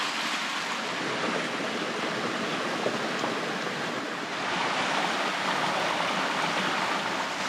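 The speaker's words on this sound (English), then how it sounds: "I can definitely hear the waterfall" A waterfall near a bush trail at Terry Hills, a steady broad rushing roar of falling water that holds constant throughout, heard from a moderate distance with no voices.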